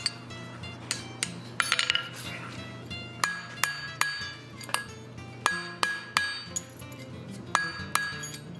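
Metal rings are hammered flat with a series of sharp, ringing metallic strikes at an uneven pace, close and bright, each leaving a short clinking ring over a faint hum.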